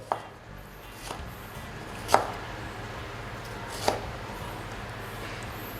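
A few sharp knife strikes on a cutting board, slicing tomatoes, spaced irregularly, against a steady low background hum.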